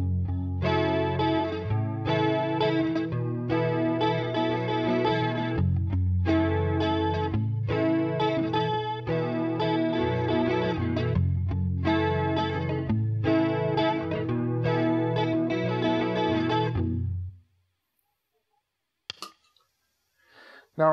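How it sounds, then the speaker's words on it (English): An acoustic guitar run through an effects board without an acoustic simulator, strummed in rhythmic chord bursts with chorus-like shimmer for about seventeen seconds, then falling silent apart from a few faint clicks. "hear what the Acoustic sounds without the Acoustikar"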